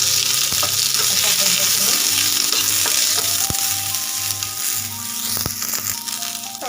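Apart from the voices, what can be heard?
onion sautéing in a pan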